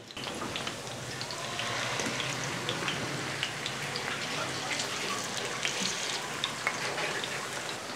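Chicken kofta kebabs frying in a large pan, a dense, even sizzle like rain on a surface with small pops, steady and close for the whole stretch.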